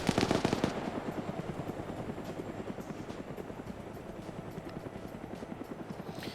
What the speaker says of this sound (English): you have the helicopter circling around this thing like a damn shark